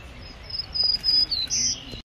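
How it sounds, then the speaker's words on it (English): A black-throated green warbler sings from a tree close in front, giving a few thin, high buzzy notes in short phrases over quiet background hiss. "Black-throated green warbler right here in the tree in front."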